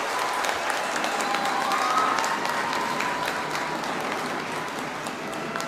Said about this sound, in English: For him, clapping,